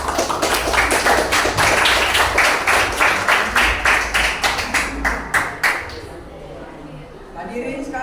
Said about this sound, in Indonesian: Berikan tepuk tangan yang meriah kepada tim panel 3 dan 4 kelas C.